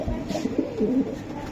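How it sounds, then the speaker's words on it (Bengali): Racer pigeons cooing close by, a pair of soft, throaty rolling coos repeating through the moment with a faint bird chirp in the background. "দুইটা কবুতর ভাই"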